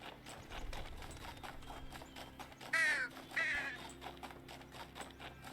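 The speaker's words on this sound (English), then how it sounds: "Interestingly rendered crows." Rendered crows in a video game give two loud, harsh caws over a quiet background of steady hoofbeat-like clopping and ambient game sounds.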